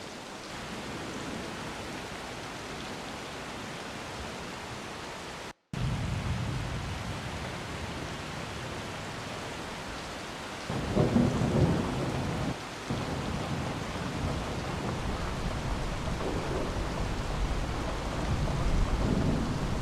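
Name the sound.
rain and thunder recordings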